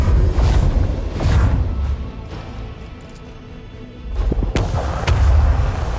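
Macro cannons firing in the Warhammer 40k video game Rogue Trader: heavy booming blasts that rumble at the start, fade into a low drone, then return with a sharp crack and further loud rolling booms.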